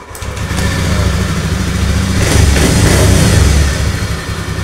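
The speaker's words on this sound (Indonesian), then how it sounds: "Sekarang double starter." A Honda Scoopy ESP scooter with an intermittent stalling fault starting by electric starter, a short cranking burst then the engine catching and running steadily, revving up briefly before settling, close and loud.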